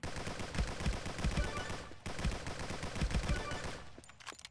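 Rapid rifle fire from a Unity indie shooter game rattles out in dense automatic bursts, breaks off briefly midway, then resumes and trails into a few scattered final shots.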